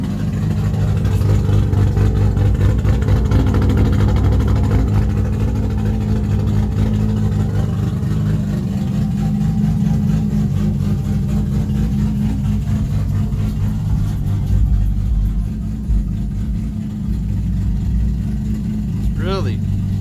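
A warmed-up engine idles steadily after start-up, a loud, continuous low rumble with an even mid-range drone that holds for about twenty seconds.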